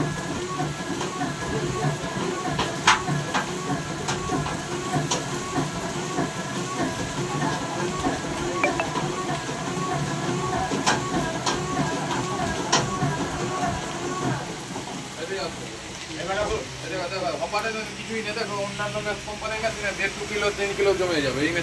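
A batasa sugar candy making machine with a rotating drum runs with a continuous mechanical rumble and clatter while someone talks over it.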